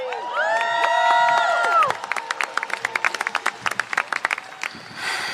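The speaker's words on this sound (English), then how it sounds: "Let's give her a round of applause." Audience at a People's State of the Union event applauds and cheers; a short burst of clapping swells first, then thins into scattered, crisp individual claps that fade out, with no talking.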